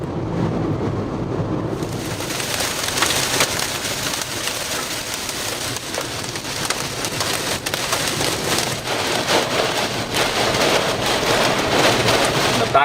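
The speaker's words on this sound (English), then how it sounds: "Backside of the tornado warning storm, super rain wrap." Heavy rain wrapped around the back side of a tornado-warned storm in Texas, a dense, steady downpour drumming on a surface close by, with faint rumbles mixed into the hiss and no voices.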